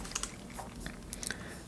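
Computer keyboard keys pressed in a handful of quick, light clicks at irregular spacing, faint and close against a quiet background with no talk.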